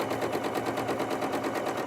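Janome 9480 sewing machine stitching a quilt seam on a nine-patch mug rug, a steady rapid mechanical chatter running continuously at close range with no pauses.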